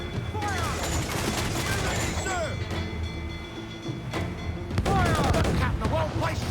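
Mortar fire during a naval battle in Assassin's Creed Black Flag, with repeated booming volleys over a continuous rumble of battle noise, while voices shout throughout.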